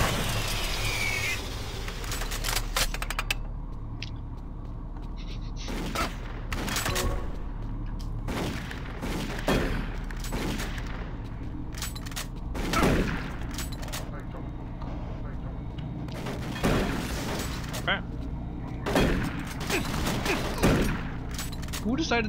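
Zombie soldiers firing guns in DOOM 3 co-op, bursts of gunfire crackling in quick volleys from moderate distance, recurring throughout while players talk over the shooting.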